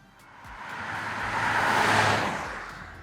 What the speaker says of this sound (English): So here we are on the Autobahn, an unrestricted stretch, which unfortunately I'm stuck in a little bit of traffic.